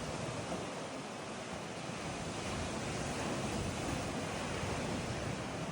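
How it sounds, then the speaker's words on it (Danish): Big waves crash and wash steadily onto a beach on Ko Phra Thong island, a continuous loud surf roar mixed with wind buffeting the microphone, with no voices. "Og det er den stranden med de store bølger."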